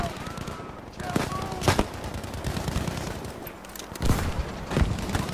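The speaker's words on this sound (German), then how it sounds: "Rocket Launch" A rocket launch during a Battlefield V multiplayer match on the Iwo Jima map: sharp blasts and booming bursts amid dense battlefield gunfire and rumble, with a voice faintly mixed in.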